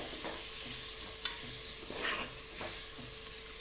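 Chili powder sizzles and fries in oil in a pan while being stirred, a steady close hiss with light scraping strokes repeating throughout.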